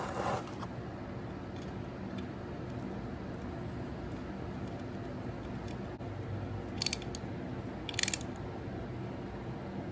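A ratchet wrench snugs an oil drain plug on a 1998 Harley-Davidson Dyna Super Glide. Faint, low mechanical noise runs throughout, with a couple of brief, sharp clicking bursts near the end.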